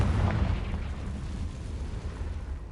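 Confringo fire spell exploding in the video game Hogwarts Legacy, a single deep boom at the start that rolls off into a long low rumble, no talking.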